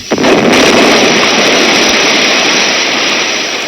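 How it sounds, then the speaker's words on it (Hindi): A bomb thrown in an assembly hall goes off with a sudden loud blast that opens into a sustained roaring rumble filling the whole clip without letting up. "इस बम से जोरदार धमाका हुआ।"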